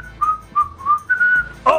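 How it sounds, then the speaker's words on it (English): Someone whistles a short tune of about five clear, close, loud notes with brief gaps between them, ending in a breathy puff. "I was whistling."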